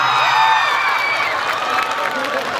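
A comedy show audience cheers and claps for stand-up comedian Sandip Chhetri, a loud, dense burst of crowd noise with whoops and shouts over steady applause that eases slightly toward the end.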